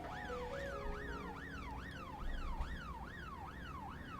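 An ambulance siren in the police-management game This Is The Police wails in a steady, repeating rise-and-fall pattern over a low rumble, heard throughout at moderate distance with no talk.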